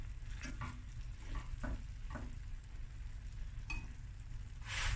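Rice and liquid simmer down in a pot for a sardine and mussel akhni, a steady soft sizzle and bubbling with a few scattered stirring scrapes and light clinks, close and with no voices.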